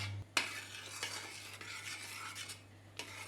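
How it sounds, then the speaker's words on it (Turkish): A spoon stirs semolina and orange juice in a pot for a quick dessert, making faint, continuous scraping and swishing with a low steady hum behind it and a few light taps. "karıştırıp kıvam almasını sağlayacağım"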